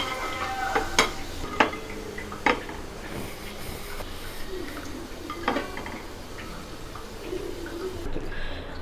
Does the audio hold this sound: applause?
no